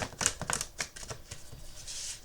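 Tarot cards are shuffled by hand, giving a close, quick series of crisp riffling flicks and soft slaps at an uneven rhythm, moderately loud, with no talking.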